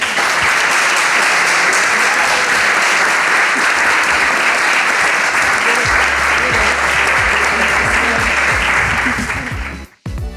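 A conference audience at a disc golf women's summit applauds the speakers, loud, dense and sustained clapping that cuts off abruptly near the end.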